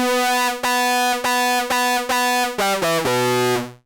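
A Sequential Circuits Pro-One synthesizer with oscillator sync on plays a run of short, bright, buzzy notes, and each attack has a sweeping harmonic bite. The pitch steps downward near the end before the sound stops. It is loud and close, with no speech.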